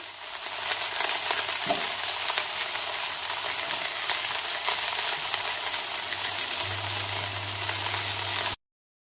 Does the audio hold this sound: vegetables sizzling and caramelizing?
yes